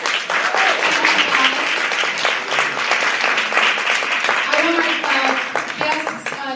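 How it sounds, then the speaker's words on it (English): An audience at a private media screening applauds the cast, sustained dense clapping filling the room over several seconds, with voices mixed in. "we are going to give our cast a round of applause"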